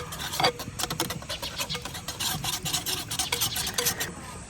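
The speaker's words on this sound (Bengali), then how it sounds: "এখন আবার ভালো করে ফেটাই নিলাম" Gram-flour batter for begun bhaja fritters is beaten briskly in a bowl, giving a steady run of quick wet scraping strokes that stays close and even throughout, with no talking.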